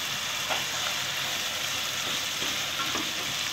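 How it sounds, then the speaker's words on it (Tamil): Sliced onions sautéing in oil in a pan for egg curry, with a steady, close hiss and a few soft clicks of stirring. No one speaks. "இந்த வெங்காயம் வந்து நல்லா வதக்கணும்."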